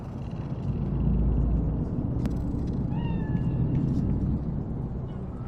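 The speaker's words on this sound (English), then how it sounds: "Fine-looking feline." A cat in the Cyberpunk 2077 game, set in Night City, lets out a couple of short, fairly faint rising meows over a steady low ambient rumble of city and engine noise.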